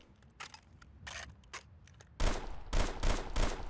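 Gunfire in the Delta Force Xtreme video game, shots ripping through trees on a Peru jungle map: scattered sharp cracks at first, then heavier rapid bursts of fire, moderately distant and alone.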